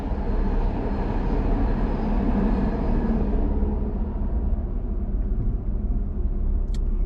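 A loud rumbling roar of an elevated BART rapid transit train passing close by overhead in Oakland, sustained and then gradually fading as it moves away.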